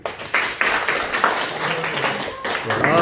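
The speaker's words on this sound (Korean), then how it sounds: "박수 한번 합시다." A small group claps together at a church youth gathering, with bursts of clapping mixed with voices and chatter, ending with a louder rise of sound.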